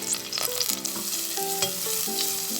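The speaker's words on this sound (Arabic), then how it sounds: "جبت حله وحطيت فيها معلقه زيت، واحط فيها معلقه ثوم مهروس" Crushed garlic frying in a spoonful of oil in a pot, a close steady crackle and sizzle with a few faint clinks, no one speaking.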